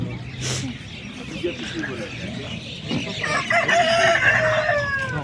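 At a busy poultry market in Fergana, chickens cluck and a rooster crows loudly, surrounded by the chatter of people talking nearby.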